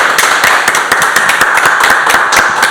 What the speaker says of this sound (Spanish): Y un aplauso por favor a Dafne